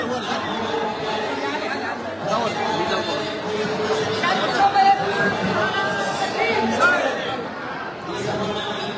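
Huge crowd gathered at Paithan during a religious festival visit, a dense continuous hubbub of many overlapping voices chattering nearby with occasional laughter, steady throughout.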